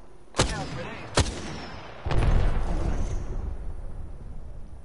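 Gunfire in the video game Apex Legends: three sharp separate shots, the last opening into a rumbling, decaying blast, fairly loud with no talk.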